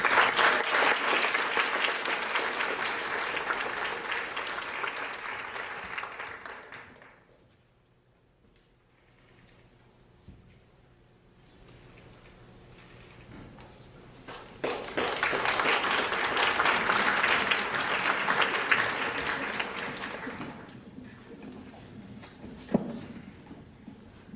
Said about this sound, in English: We can applaud for everyone anyway.